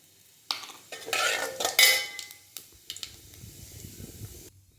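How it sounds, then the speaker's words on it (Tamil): Cumin seeds are stirred in hot oil in a pan. Close metallic clinks and scrapes come first, then a soft, crackling sizzle carries on quietly underneath. "எண்ணெய் காஞ்சிருச்சு. இப்போ ஜீரகம் தாளிக்க போகிறேன்."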